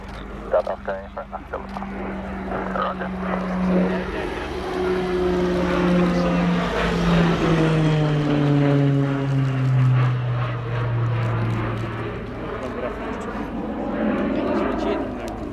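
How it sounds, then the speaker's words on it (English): A Garrett turboprop aircraft passes at an airshow with a loud droning engine whose pitch sweeps downward as it flies by, sustained and strong throughout. "That distinct noise you'll hear throughout the display is the operated Garrett CPE turboprop."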